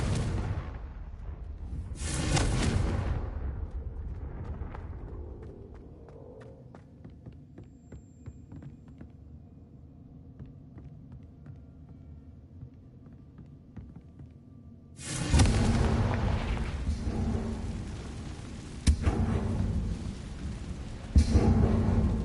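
Blasting-spell explosions in a video game: a sharp broadband burst near the start, a low rumbling hum in between, then a louder second blast that lingers with crackling debris-like noise.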